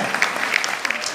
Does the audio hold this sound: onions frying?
no